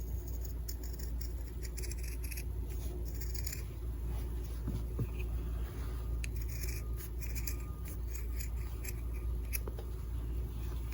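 Scissors cut through fabric around a traced, rounded outline for a breathable kids' face mask, giving a steady soft snipping and rubbing texture that runs close and quiet throughout, with no talking.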